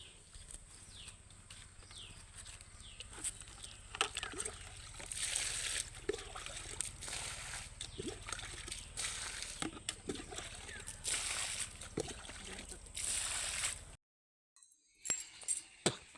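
Water splashes onto village plants and shrubs outdoors in a few rushing bursts of several seconds each, close by, with faint background sounds between pours.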